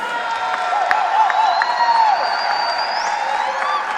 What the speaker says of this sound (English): Please give a round of applause to all of our homecoming king candidates.